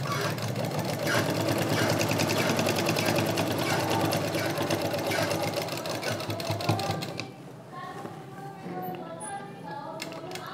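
A sewing machine stitches the side seam of a readymade lehenga, running loud and steady for about seven seconds before stopping, leaving a quieter room.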